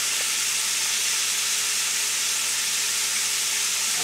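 Barbecue chicken wings frying in hot oil, a steady broadband sizzle and hiss that holds evenly throughout with no pauses and no voices.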